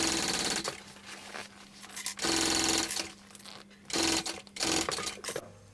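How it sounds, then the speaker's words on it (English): A sewing machine bastes the straight edges of a fabric bag at a quarter-inch seam, running in several close, loud bursts of rapid stitching separated by short pauses. "I'm just going to baste it at 1/4 inch, just along these straight edges"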